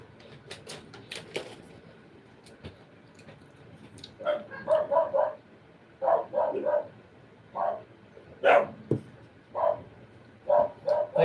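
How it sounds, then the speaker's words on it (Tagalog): A dog barks repeatedly in short bursts, fairly close, with irregular gaps between the barks and some clattering early on. "Ingay ng aso namin, si Galicia."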